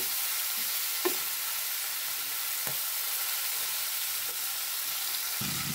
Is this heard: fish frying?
yes